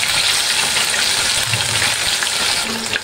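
Mushroom bhaji fritters sizzle and crackle steadily in hot oil in a wok, a loud, close, continuous frying hiss with no talking.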